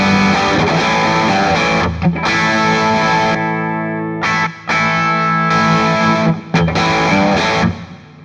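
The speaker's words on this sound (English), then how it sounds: "If you want to hear it with max gain." Electric guitar runs through a JAM Pedals Double Dreamer overdrive with the gain maxed, producing loud, thick, saturated chords and sustained notes with a few brief pauses, close and alone.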